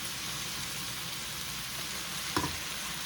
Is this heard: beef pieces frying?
yes